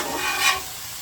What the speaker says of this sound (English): Keep chopping and mixing as we go.